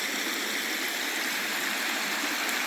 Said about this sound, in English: We are fishing a little creek off the Clarion River